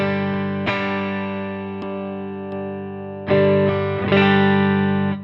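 Sustained electric guitar chords ringing through effect pedals, rich and shimmering with heavy sustain, restruck a few times and left to bloom.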